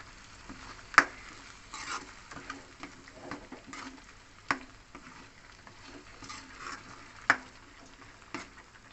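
Spices sautéing in a pan for fish-head gulai with tofu, a spoon scraping and tapping the pan in irregular sharp ticks over a soft, steady sizzle.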